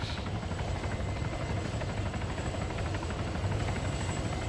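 Aircraft approaching during an Element training exercise, a steady loud rotor-like drone filling the whole span without a break or change in level.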